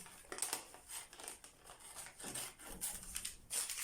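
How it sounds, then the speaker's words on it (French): Paper scissors snipping through a sewing pattern, with quiet, close, irregular crisp cuts and paper rustling over a few seconds, no talk. "Utilisez vos ciseaux à papier"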